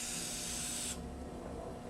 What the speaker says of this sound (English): I'm going to use a little more penetrating oil